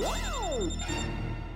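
An electronic phone ringtone plays loudly and close, a rising-and-falling synth melody followed by repeating tonal notes.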